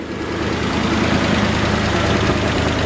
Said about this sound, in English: The engine runs great.